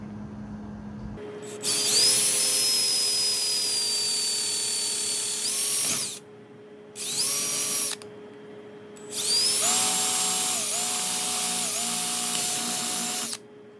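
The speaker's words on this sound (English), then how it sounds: "What we're going to do is just go through and drill these out" A power drill whines at high speed in three long runs separated by short pauses, biting steadily through Kydex plastic at close range while drilling eyelet holes for a knife sheath.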